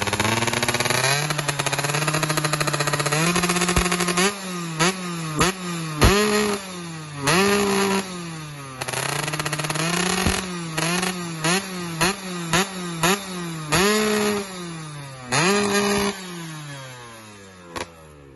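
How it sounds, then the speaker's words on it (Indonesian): Yamaha F1ZR underbone motorcycle with a 125 engine revving hard in repeated throttle blips, the pitch climbing and dropping with each rev, loud and close with a crackling exhaust edge. "Cuman kalau udah di gaspol ini baru ngecerit."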